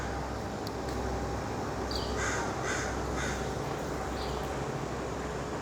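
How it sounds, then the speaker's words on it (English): A crow in Vancouver caws a few times, moderately distant, over a steady broadband outdoor hiss and rumble. "okay, that's the crow"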